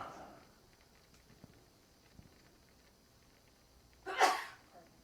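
A single sudden sneeze bursts out near the end during a dental extraction and implant procedure, after a long quiet stretch with faint soft taps and clicks.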